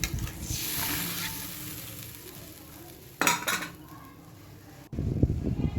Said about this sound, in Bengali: এরপর আমি মশলাটার মধ্যে একটু জল দিয়েছি দিয়ে ভালো করে কষিয়ে নেব